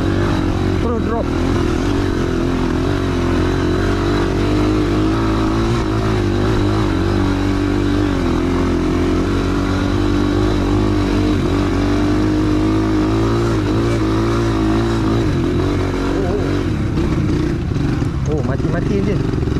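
Motorcycle engine revving while the gearbox is tested during a jungle expedition in tropical storm season, a loud continuous rumbling drone with rising and falling revs, voices talking over it.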